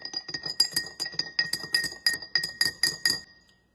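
Spoon or stirring rod clinking rhythmically against a glass container while a clock reaction solution is stirred, about a dozen bright, close clinks in steady succession, ringing briefly before stopping.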